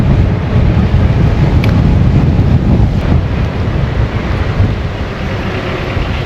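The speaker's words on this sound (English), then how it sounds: "I can't remember the last time it was this windy." Strong wind roars and buffets the microphone continuously, a loud dense rush with no pauses.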